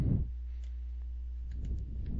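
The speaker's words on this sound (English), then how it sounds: "Give me time to click here" A computer mouse gives a few faint, sparse clicks in a quiet room over a low steady hum, with no talking.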